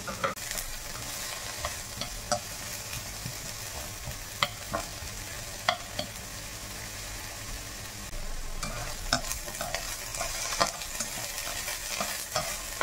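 Bitter gourd (ampalaya) fries in a pan with a steady, close sizzle and occasional soft stirring clicks and scrapes, continuous and fairly even throughout, with no voices.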